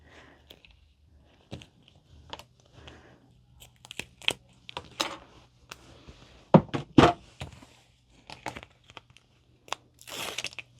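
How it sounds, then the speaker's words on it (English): Tape pulled off a roll and pressed down the center of fabric for a backpack, scattered crackly tearing and crinkling bursts with soft thumps and pauses between them, close and fairly loud, no talking. "we are going to tape down the center"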